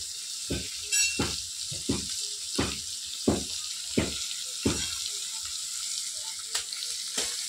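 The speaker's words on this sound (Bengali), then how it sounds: "এই মাছ ভাজছি, মাছ সেটা কড়াই মাছ ভাজা চলছে" Fish sizzles in hot oil in a kadai while sharp utensil scrapes and knocks land roughly every half second to second over the continuous frying hiss.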